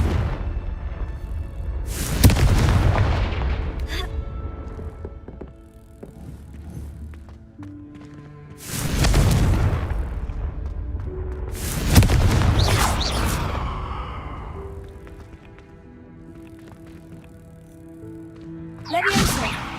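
Confringo fire-explosion spell bursts in Hogwarts Legacy, three loud booming blasts spaced several seconds apart, each with a rushing whoosh and crackling tail, over a continuous game music and ambient bed.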